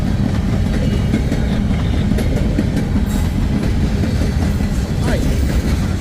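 Iowa Interstate freight cars, including potash cars, roll steadily past close by with continuous loud rumble and rhythmic clickety-clack of wheels over rail joints, with no talk heard.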